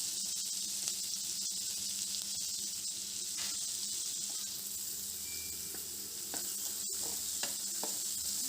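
Sliced onions with a pinch of salt sauté in a pan for a South Indian spicy curry, a constant close sizzle and hiss with faint stirring scrapes throughout, no voices.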